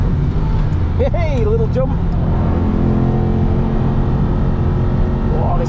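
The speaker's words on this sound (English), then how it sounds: "feed it another gear, that's 5th gear now" Onboard an Aston Martin V8 Vantage racing car lapping the Nürburgring, the engine drones loudly and steadily, with a brief rev change around an upshift into fifth gear, under a short spoken exclamation.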